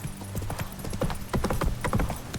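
Roach, Geralt's horse in The Witcher 3, clip-clops along in a steady run of hoof beats, close and fairly loud, with faint game ambience beneath and no talk.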